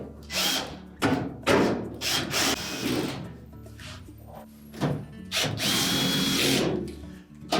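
Cordless power drill driving screws into a Whirlpool clothes dryer panel during an idler spring repair, several short whirring bursts of varying length with brief pauses between them, close and clear, no talking.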